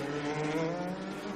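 Formula 3 race car with a two-litre Toyota engine at Silverstone, a loud, steady high-pitched engine whine held briefly at speed, close and without talk.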